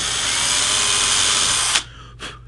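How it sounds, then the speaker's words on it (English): A power drill boring a shallow side marker hole into a guitar neck, a loud steady whine that cuts off abruptly, followed by a brief short burst. "I'm only going to drill it about 1/4 of an inch deep"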